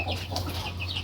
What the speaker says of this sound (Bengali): আমি যে মুরগিগুলো পালি